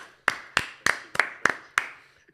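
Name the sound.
round of applause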